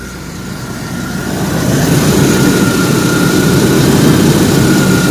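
Car engine idling after an oil leak repair, running somewhat rough with a low, tractor-like rumble; a steady, fairly loud drone that swells slightly in the first seconds and then holds even, with no talking.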